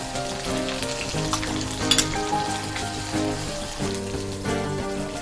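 Onions frying in oil alongside mustard seeds, green chilies and ginger-garlic paste, a continuous crackling sizzle with sharp pops, under a steady tonal hum from nearby kitchen equipment.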